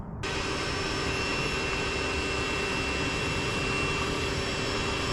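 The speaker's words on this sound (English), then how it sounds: "we're gonna see how it works blowing up this mattress" A battery-powered electric pump inflates an air mattress at a campsite, starting abruptly and then droning loudly and steadily with a high whine and no talking.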